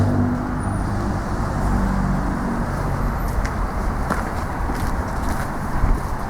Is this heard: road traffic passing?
yes